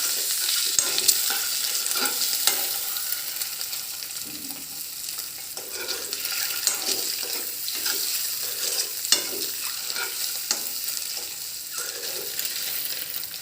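An egg frying on a slow flame gives a steady close sizzle, with frequent scraping and light taps of a spatula against the pan throughout, and no one speaking.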